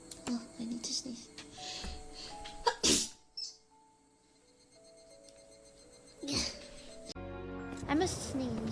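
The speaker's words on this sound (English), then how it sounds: "Oh, I need to sneeze." A person sneezes several times in sharp, loud bursts, spaced a few seconds apart, with talking in between and a quieter pause in the middle.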